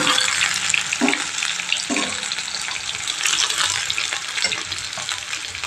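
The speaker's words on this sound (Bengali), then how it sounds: "বড়াগুলো তেলের মধ্যে আমি ভাজে দিয়ে দিচ্ছি" Bora fritters frying in hot oil for a Bengali soybean and bora curry, a steady dense sizzle and crackle running throughout, with a couple of brief clinks of a utensil turning them.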